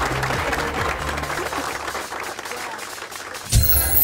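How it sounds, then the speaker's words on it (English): Brief round of applause from a studio audience on a contest show, clapping over soft background music for a few seconds, ending in a louder burst. "Give them a round of applause."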